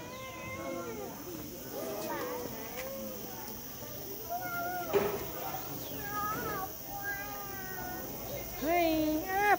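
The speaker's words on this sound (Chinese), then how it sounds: "Come on, cat." A cat meows several times, close and fairly clear, among lively overlapping talk from adults and children nearby.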